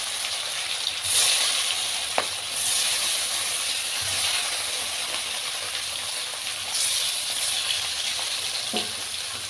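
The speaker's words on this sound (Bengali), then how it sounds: "মাছটা আমি সুন্দর করে ভেজে নিচ্ছি।" Fish fries in hot oil for a Bengali fish curry with drumsticks, giving a steady close hiss and sizzle with occasional pops and spatters, no talking.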